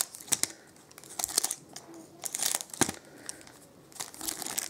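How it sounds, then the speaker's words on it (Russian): Scissors snip open foil packs of 2017 Topps Chrome soccer trading cards up close, giving sharp crinkling and cutting bursts in an irregular rhythm, with no voices. "Пакетики сейчас, как всегда, подрежем."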